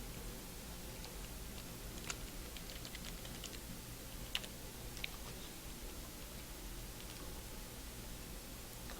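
Faint, quiet keystrokes on a computer keyboard as a password is entered, a few scattered clicks over steady background hiss.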